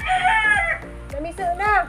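Loud, close turkey gobbling: warbling, rising and falling bursts in quick succession, with a brief pause between calls.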